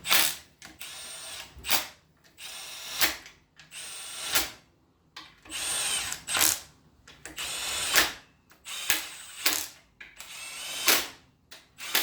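A power tool snugs down bolts on an 800hp engine shortblock during assembly, in about a dozen short, close whirring bursts separated by brief pauses.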